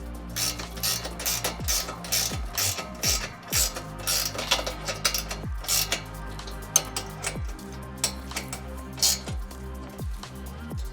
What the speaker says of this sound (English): Now I'm just going to grab my spanners and loosely tighten it for now.